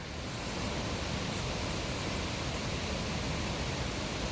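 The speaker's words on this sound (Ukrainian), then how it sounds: "бачимо попереду є водоспад натуральний з гір. Зараз водичка стікає." A small natural waterfall running down from the mountains near a restaurant in Alanya, Turkey, gives a steady, dense rush of falling water that holds even and close throughout with no voices.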